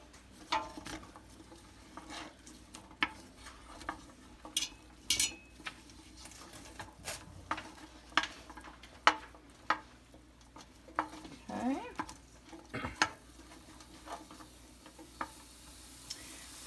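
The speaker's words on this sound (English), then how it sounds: "you see it start to sizzle. Stir it up" Garlic sizzles in a hot pan while a utensil scrapes and taps against it repeatedly, with a soft steady frying hiss underneath, while making lentil soup.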